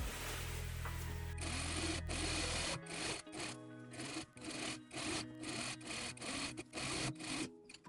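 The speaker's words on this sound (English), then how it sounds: "I can sew the whole side seam shut in one go" A sewing machine stitches the side seam of a satin blouse, running in a fast mechanical whir broken into short bursts with brief pauses between them. It is close and clear, with a steadier hum at the start and no voices.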